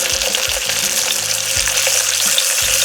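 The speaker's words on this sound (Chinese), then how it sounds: "大火煎。" Mandarin fish pan-frying over high heat in a hot wok with salad oil and a spoonful of lard, giving a loud, steady, close sizzle with crackling pops throughout and no talking.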